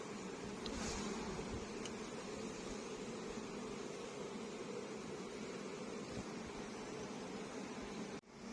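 A shaken beehive fills the air with a dense, continuous buzz of many bees, a steady swarm drone close by that stays even throughout.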